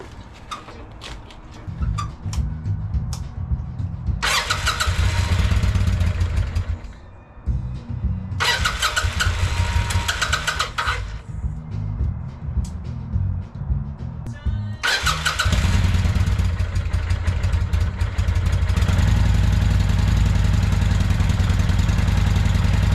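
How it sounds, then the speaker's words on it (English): A 1996 Kawasaki Vulcan 800 motorcycle, sitting unrun for 20 years, is cranked three times in bursts of starter whir and sputtering firing, then catches and keeps running with a loud, steady rumble. "It started. It started."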